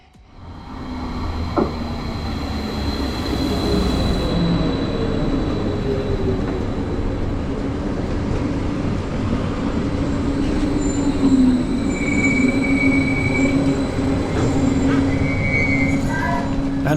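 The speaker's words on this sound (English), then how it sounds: "here in Finnentrop we can take a look at the arrival of my next train" A train rumbles steadily into Finnentrop station on the Ruhr-Sieg Railway, wheels squealing with rising and falling metallic tones over a continuous loud roar as it slows.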